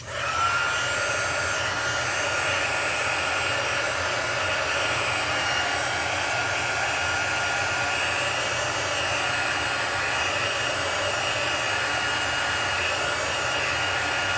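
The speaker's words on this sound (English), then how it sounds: "Now I like to use my heat tool, my heat gun" A heat gun drying a freshly stamped paper card, a loud steady blowing whir that starts abruptly and holds constant and close for the whole stretch, with no voices.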